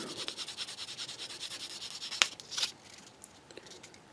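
Fine-grit sanding on a small part from a Bandai 1/12 scale Boba Fett plastic model kit makes quick, rhythmic back-and-forth rubbing strokes, close and soft, broken by a couple of brief scrapes.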